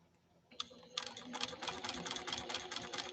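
A JUKI TL 2020 PE sewing machine starts up and stitches at stitch length 4 in a workshop, a rapid close rhythmic chatter that begins after a few starting clicks and runs steadily to the end.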